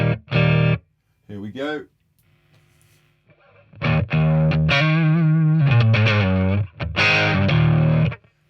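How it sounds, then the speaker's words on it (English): An electric guitar plays a crunch tone through a BOSS Katana MK2 amp: short distorted chord stabs, then a longer sustained phrase and more chords, with a brief spoken word near the start. "Let's move to the crunch and hear how that sounds."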